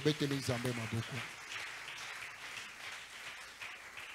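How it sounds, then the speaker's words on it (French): A church congregation applauds and cheers for the glory of God at a worship gathering, a wash of many hands clapping that follows a voice at the start and continues steadily at moderate distance. "Est-ce qu'on peut acclamer pour la gloire de Dieu?"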